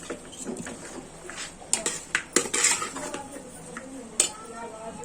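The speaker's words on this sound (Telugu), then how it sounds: "ఇప్పుడు చూడండి ఇదంతా ఒకసారి బాగా మిక్స్ చేస్తున్నాను." A spoon stirs deep-fried masala in a pot on low flame for mutton biryani, clinking and scraping against the metal in irregular bursts over a soft sizzle, with a voice speaking underneath.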